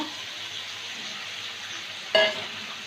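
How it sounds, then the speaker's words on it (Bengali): Green peas and green chillies fry in a pan for a vegetable dal, a steady soft sizzle broken by one sharp clatter of a utensil against the pan. "দুটো কাঁচা লঙ্কা দেবো দিয়ে এগুলোকে ভালো করে ভেজে নেব"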